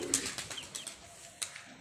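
Pigeons coo softly amid a quick flutter of wings as they are released, with a few sharp chirpy bursts standing out near the start and end.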